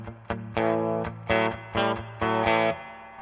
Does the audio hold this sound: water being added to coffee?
no